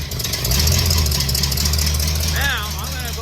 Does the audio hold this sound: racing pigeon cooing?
no